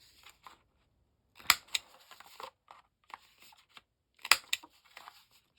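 Scissors snipping material for a wooden album cover, a few sharp close cuts separated by quiet pauses, with soft handling rustles between them.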